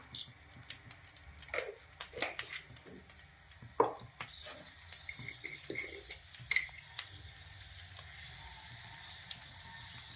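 Fenugreek seeds sizzle and pop in hot coconut oil, with scattered crackles, a few sharper spatters and light stirring clicks.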